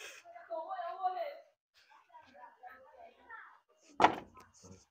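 A used Isuzu Panther Hi-Grade car door shuts with a single solid, close thunk near the end, following stretches of people talking nearby.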